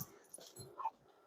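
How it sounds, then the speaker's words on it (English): A dog whimpers and whines softly while playing with a toy somewhere in the room, a few short, faint high whines with breathy wheezing sounds in between, heard alone without talk. "that's my dog."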